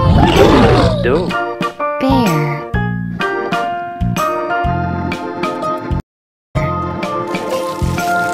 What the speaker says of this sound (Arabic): دب